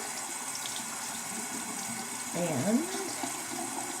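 Tap water runs steadily at low volume while exfoliant is rinsed off at a sink, a faint constant stream with a brief splashier swell midway and a voice speaking softly over it.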